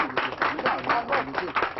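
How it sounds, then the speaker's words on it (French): Audience applause for a magic rope-knot trick on a French children's TV show, a brief burst of clapping mixed with crowd noise and some voices. "c'était quand même très bien applaudi"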